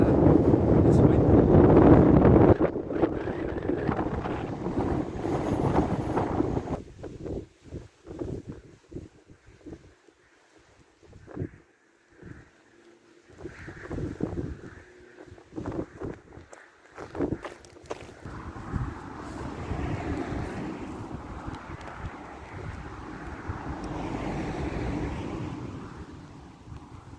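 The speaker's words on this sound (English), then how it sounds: "If you can hear that, this wind." Wind gusting across an exposed hilltop at an Iron Age fort on the South Dorset Ridgeway, a rough, buffeting roar that rises and falls in uneven surges, strongest at the start and softer later, with a voice briefly speaking.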